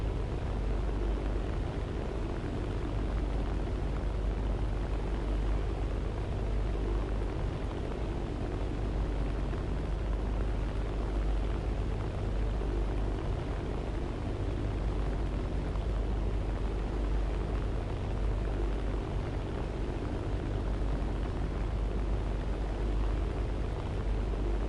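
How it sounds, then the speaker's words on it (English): Steady, unbroken drone of a Vickers Wellington bomber's engines in War Thunder, a dense roar filling the whole stretch without pauses or voices. "the Wellington is one of the slower bombers too"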